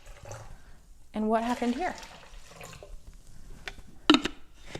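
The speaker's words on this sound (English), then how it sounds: "Now we have a little bit of Kangen water here. We're just going to add it." Kangen water poured into a container during a water demonstration, a short splashing burst of liquid with a brief later trickle, heard near and between a man's spoken remarks.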